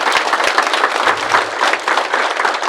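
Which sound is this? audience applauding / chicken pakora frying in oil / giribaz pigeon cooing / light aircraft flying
audience applauding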